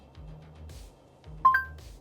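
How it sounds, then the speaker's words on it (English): Phone dialing tones from a car infotainment system placing a call: a couple of short, faint beeps over a quiet low hum, followed by a sharper tone pair near the end. "All right, calling Toys R Us."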